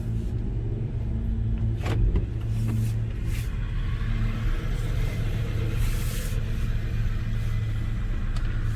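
A 2020 Acura RDX SUV with a 2.0L turbo engine pulls away, its steady low road rumble and engine drone continuing evenly throughout, close and moderately loud, with no talking.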